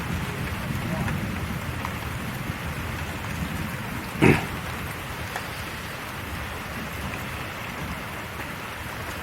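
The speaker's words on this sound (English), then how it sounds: "let's listen to that thunder for a minute" Steady rain falls during a daytime thunderstorm, with one sharp crack of thunder standing out briefly over the hiss. No one speaks.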